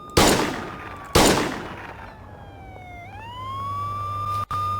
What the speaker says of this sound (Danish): Nu kommer der en patruljevogn.